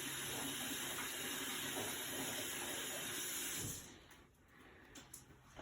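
A kitchen tap runs in a steady, close hiss of water while hands are rinsed, then shuts off, leaving faint handling sounds.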